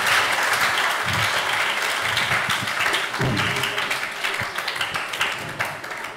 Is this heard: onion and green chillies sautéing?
no